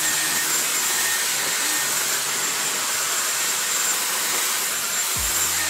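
A Dyson Airwrap hair styler blows air in a steady, loud, close whooshing hum with a faint high whine, running unbroken, and a brief low knock near the end.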